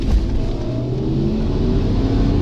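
A car launching off the line at a drag race, a loud, steady engine roar with rising revs held close throughout, no voices.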